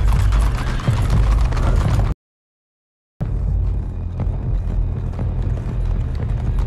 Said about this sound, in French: Ce sont les chevaux du convoi.